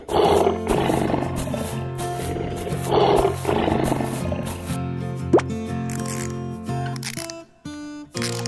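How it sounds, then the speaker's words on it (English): Cartoonish lion roars in a game, several loud bursts rising over steady background music, with short plopping and dripping effects near the end. "lion."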